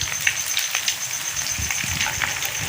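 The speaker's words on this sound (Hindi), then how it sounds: "अभी इनको हम अच्छी तरह फ्राई करेंगे।" Rice and potato kebabs frying in a pan give a dense, steady sizzle with close crackling pops throughout and no talking.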